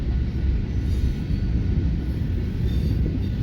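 A long freight train rumbles steadily past close by, a dense low roar of rolling wagons that never lets up, with no voices over it.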